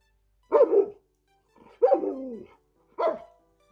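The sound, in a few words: dog barking sound played by Alexa smart speaker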